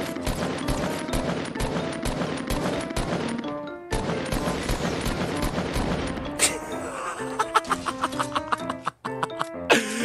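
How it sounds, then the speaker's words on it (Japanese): Bursts of Fortnite gunfire crackle amid busy game music and effects, with short sharp shot transients clustering in the latter half. "あーやっと銃声。"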